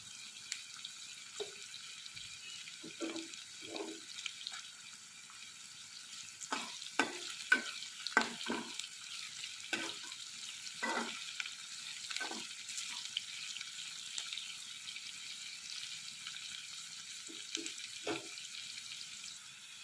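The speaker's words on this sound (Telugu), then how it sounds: "గోల్డెన్ కలర్ వచ్చేంత వరకు ఫ్రై చేసుకుందాం. అలాగే ఈ కరివేపాకును కూడా వేసేద్దాం." Chopped onions and curry leaves frying in oil in a pan, a steady faint sizzle broken by scraping stirs and a few louder bursts of spatter.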